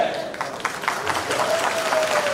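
Applause from an audience in an awards ceremony hall, a steady wash of clapping across the room, with a tone sustained faintly underneath and a voice briefly heard over it.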